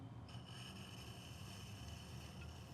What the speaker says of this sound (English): I'm going to go ahead and clean it up a little bit with this larger trimming tool.